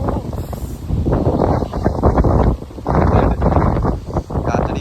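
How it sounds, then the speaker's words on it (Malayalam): Strong gusts batter a phone microphone outdoors in heavy rain near choppy water, a loud rumbling buffeting that surges and eases in uneven waves throughout. "കാറ്റടിക്കണോണ്ട് ഫോണില് ക്യാമറയിലൊന്ന് വെള്ളം വീഴുന്നുണ്ടാ."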